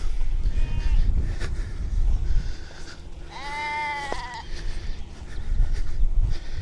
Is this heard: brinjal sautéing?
no